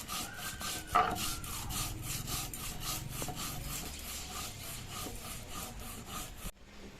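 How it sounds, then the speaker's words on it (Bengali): Cumin seeds ground by hand on a stone slab, a steady rhythmic scraping and rubbing back and forth, close and fairly loud, running continuously alone without voices. "এবার বেটে নেব জিরে"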